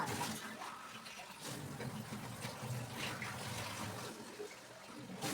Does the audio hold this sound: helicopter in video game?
no